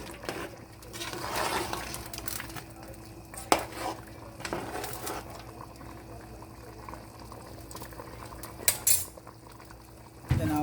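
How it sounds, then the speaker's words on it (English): Pepper soup being stirred in a pot, a bubbling simmer with scraping and clinks of a spoon against the metal, a couple of sharper knocks standing out. "I'll stir everything to incorporate."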